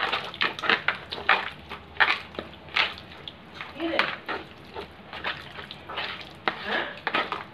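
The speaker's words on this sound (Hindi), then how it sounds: "अब इसको मैं अच्छे से मैं जो है पूरा मिक्स करने वाली हूँ" Raw prawns are stirred with a spoonful of flour in a bowl, a spoon scraping and clinking against the dish in a steady, repeated rhythm of close, wet mixing strokes.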